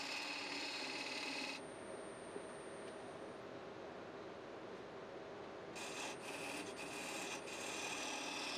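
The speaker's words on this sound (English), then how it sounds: "I'm using a square nose scraper to make the tenon square and to size it for a proper fit" A square nose scraper shaves a wooden box tenon on a spinning lathe, giving a steady close rasping scrape with a high hiss that drops away and then returns.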